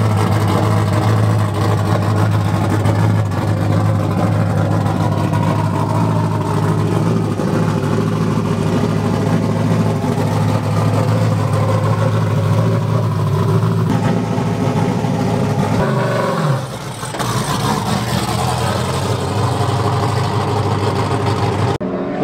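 A 700-horsepower Nissan S13 drift car's engine roars steadily at a pro-am drift event, a loud sustained drone with a brief dip around two-thirds through before it picks back up.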